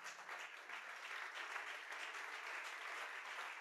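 A church congregation applauds steadily, a dense, even wash of many hands clapping without a break.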